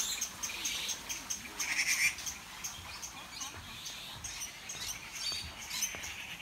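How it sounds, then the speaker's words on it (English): Many birds chirp and call at an ecological farm in Hsinchu, Taiwan, a busy mix of high twitters and trills over faint insect-like buzzing, all fairly distant and fairly soft. "down here there's a lot of birds. A lot of different birds."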